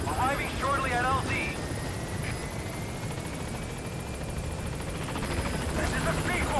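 A helicopter in Metal Gear Solid V: The Phantom Pain flies in toward a landing zone, a steady broad rotor and engine roar held at constant loudness throughout, with game radio voices and chirps over it.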